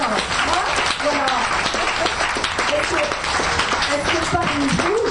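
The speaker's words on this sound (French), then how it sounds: "Moi je dis on applaudit." An audience at an animation masterclass with Andreas Deja at Fnac Saint-Lazare claps in a dense, steady round of applause that fills the room, with a voice speaking over it.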